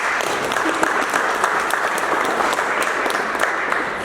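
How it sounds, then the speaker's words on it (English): Steady, dense applause from an indoor audience at a golf college seminar held at a golf club, many hands clapping continuously at close range with no voices over it. "He deserves a little clap."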